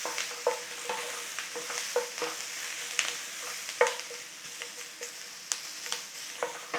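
Vegetables frying in a hot pan for chicken balti, a continuous close sizzle broken by regular scraping stirs and clanks of the utensil against the pan, roughly one every second.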